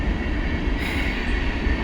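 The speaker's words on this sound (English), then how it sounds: "What a fairly long train right here." A long CSX freight train rolls past close by, a loud continuous rumble of wheels and rail cars with steady roaring texture and no break.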